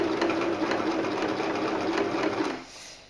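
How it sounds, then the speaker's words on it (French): A sewing machine stitches elastic fabric with a backstitch on a cloth face mask, a loud, close, buzzing whir that runs steadily before slowing and stopping near the end. "Si vous sentez que la machine elle a du mal à avancer, vous accompagnez bien le tissu comme ça vers l'arrière."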